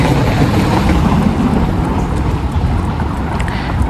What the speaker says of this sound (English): It's cobbled, so you're going to hear every tyre.